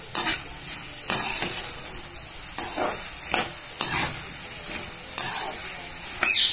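A raw plantain dish stirred and fried in a pan, a steady sizzle underneath with a spoon scraping through the mixture in regular strokes about once a second, close and fairly loud.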